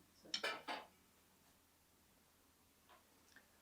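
A lid set onto a cooking pot of broad bean and potato curry simmering on a low flame gives a short, close clatter of metal, then the kitchen falls quiet apart from a faint later clink.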